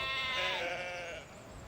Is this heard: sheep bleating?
yes